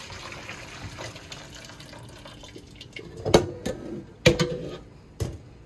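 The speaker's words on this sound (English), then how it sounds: "So I'm gonna just drain off the potato water in here." Potato water drains from a pot into a sink, a soft running trickle underlying a few louder splashing gushes and clanks near the end.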